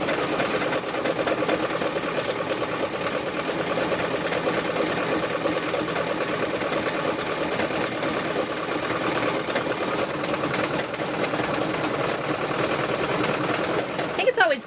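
A sewing machine runs steadily while sewing a quilt seam for a chicken quilt. Its fast, continuous mechanical whirr goes on at close range for the whole stretch and stops briefly at the end.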